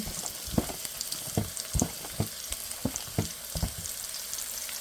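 Chopped garlic and onion fry in a pan, a soft, steady sizzle under repeated light clinks and scrapes from stirring at an uneven rhythm, fairly quiet and close.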